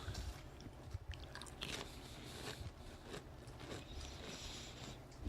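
Someone chews flavored Peeps marshmallow candy up close, steady moist biting and mashing with soft crunchy snaps throughout, no talking.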